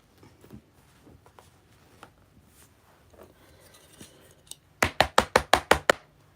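Door knocking in a children's puppet show, a quick burst of about eight sharp, loud raps coming after scattered faint taps and light clatter.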